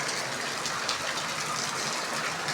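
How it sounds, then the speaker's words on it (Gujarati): Heavy rain pours down steadily in a village, a dense, continuous hiss of falling water that stays loud and even throughout, with no voices over it. "ફૂલ વરસાદ આવી ગયો હે"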